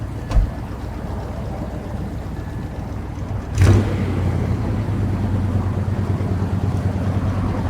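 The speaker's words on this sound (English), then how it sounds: "That's the way an old Chevy ought to start." An old Chevy truck engine turns over with a short burst and catches, then settles into a steady, rumbling idle that holds close and loud to the end.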